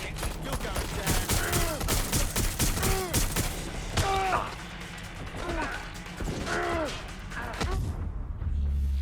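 Gunfire in the Watch Dogs: Legion video game: rapid bursts of sharp shots and crashing impacts rattle close and loud for several seconds, mixed with in-game voices and effects, before a brief pause and more firing.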